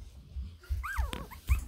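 Newborn puppies from a litter whelped in March 2023 whimper and yip in short, high, rising and falling squeaks near the microphone, with soft low handling noise in between.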